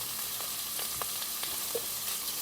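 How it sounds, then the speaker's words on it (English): Sausage browning in a warm skillet for sausage fried rice: a constant hissing sizzle with a few light taps and scrapes of a utensil, close and even. "I'm going to brown my sausage"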